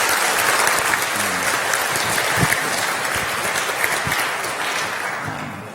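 A church congregation applauds to welcome two visiting Filipino pastors during a Sunday service, steady dense clapping filling the room for several seconds and easing slightly at the end.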